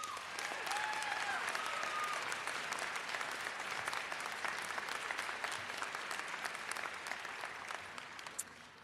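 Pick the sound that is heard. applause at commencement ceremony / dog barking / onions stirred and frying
applause at commencement ceremony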